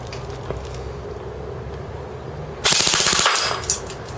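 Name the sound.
ICS Sig 552 airsoft gun firing on a 9.6 volt battery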